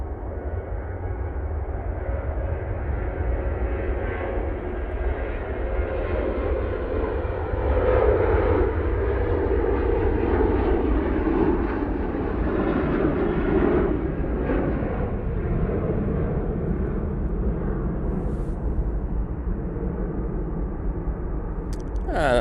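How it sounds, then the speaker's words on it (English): A Ryanair Boeing 737-800 takes off at Manchester Airport, its deep jet roar building and holding loud and continuous, with a low rumble and only faint talk. "Ryanair on the roll. Using the 737-800 for this flight."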